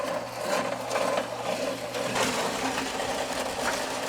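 A Mud Mixer concrete mixer starts up and runs with a steady mechanical churning rumble and rhythmic grinding, moderately close and continuous.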